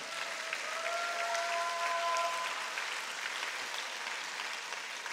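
A church congregation at a Korean service applauds in steady, sustained clapping that fills the whole stretch at a moderate level, with a faint held tone running beneath for a couple of seconds.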